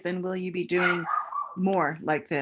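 A dog barks several times in a short, rapid, fairly loud burst, mixed in with a person talking.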